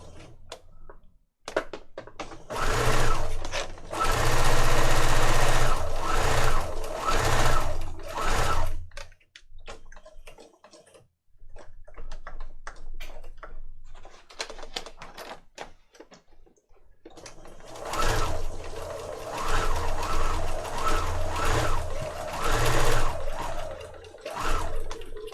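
Sewing machine stitching junk journal pages, likely over slippery inked paper, running in several loud bursts with short pauses between, no talking.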